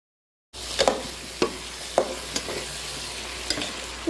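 Onions and shallots with a pinch of salt sizzle steadily in hot coconut oil, broken by a few distinct stirring scrapes and clinks spaced about half a second apart.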